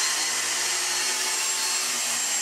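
Dyson V6 (DC59) cordless vacuum cleaner sucking up porridge oats, giving a steady, close, high-pitched whirring roar without a break.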